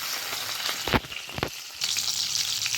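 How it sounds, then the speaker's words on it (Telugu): Fish frying in oil in a pan, village-style Andhra cooking: a dense, close sizzle runs throughout, broken by a few sharp scraping or turning noises, with no talking. "ఒకవైపు బాగా ఫ్రై అయ్యాక ఇంకోవైపు తిప్పుకోవాలండి."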